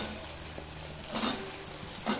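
Potato pieces go into hot oil with gingery tempering and fry, a soft steady sizzle with a couple of brief stirring scrapes, close and fairly quiet, with no voices.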